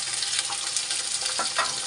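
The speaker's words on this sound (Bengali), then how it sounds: "টমেটোটাও সুন্দর করে একটু ভেজে নেব।" Tomato and onion frying in oil in a pot for a Pakistani white chicken pulao, a close, steady hiss of sizzling with brief crackles and soft stirring sounds.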